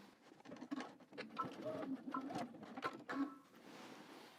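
Sewing machine stitching along the bottom hem of a skirt, giving a busy, uneven patter of needle strokes and motor whirr at moderate volume, with no talking.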